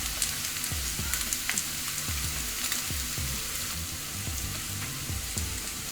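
Finely chopped capsicum frying in a pan, with a continuous close sizzle broken by repeated low thuds and scraping stirs at an irregular rhythm.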